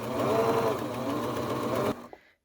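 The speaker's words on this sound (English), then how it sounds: "And the serger will do the work for me." A serger overlock machine stitches through layers of skirt fabric in one short, steady, close whirring run that stops abruptly.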